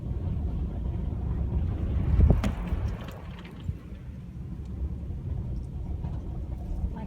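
A strong wind storm blowing through dusty air and rocking parked cars, heard as a continuous low rumbling roar with gusty buffeting against the microphone and a brief louder thump partway through.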